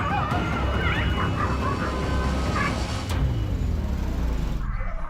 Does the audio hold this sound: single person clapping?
no